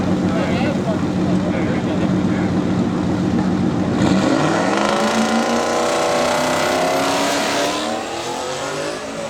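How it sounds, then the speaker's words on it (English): A Mustang drag car launches hard in a heads-up list-vs-list shootout, its loud engine roar rising in pitch as it pulls away down the eighth-mile strip, with a commentator talking over the noise. "Lewis launching off. His Mustang cruising down the 8th mile"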